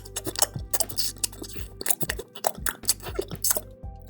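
Loud, wet chewing noises made close up, a rapid irregular series of smacks and crunches, apparently a voice imitating someone chewing noisily.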